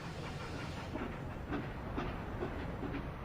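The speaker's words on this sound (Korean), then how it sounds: "기차는 기적 소리를 내며 멀리 사라졌다" A train rumbles and clatters steadily along the rails, a broad continuous roar with faint rhythmic clicks; no clear whistle stands out.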